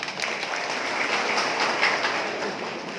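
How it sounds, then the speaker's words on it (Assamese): Audience applause at a political speech gathering, continuous even clapping from a sizable crowd lasting the full few seconds, with no voices on top. "তেখেতসকলৰ কাৰণে হাত চাপৰি দিব লাগে"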